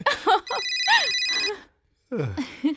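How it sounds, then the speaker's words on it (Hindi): A phone rings with a bright electronic tone over a voice in a Hindi-dubbed horror film, then a short pause before more talking. "ओह, प्लम्बर का फोन है।"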